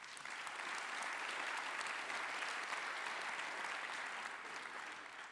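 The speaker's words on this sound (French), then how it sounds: "Merci également d'applaudir Nicolas." Steady, even applause from a conference audience filling the room, moderately distant and sustained for over five seconds with no talk over it, tapering slightly at the end.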